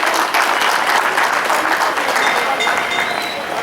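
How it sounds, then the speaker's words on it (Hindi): Strong, sustained applause from the audience at a Hindi poetry gathering (kavi sammelan), loud and dense, continuing evenly before easing slightly at the end. "सम्मान में एक बार जोरदार ताली बजना चाहिए।"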